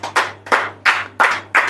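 Five loud, evenly spaced hand claps ring out in a church, sharp and close, with a steady low hum running underneath and no talking.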